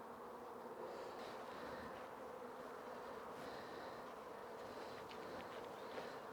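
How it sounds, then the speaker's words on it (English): Honey bees drone steadily during a hive inspection, a continuous close, even buzz with occasional louder passes of individual bees over a low hum. "making sure we're not squashing bees"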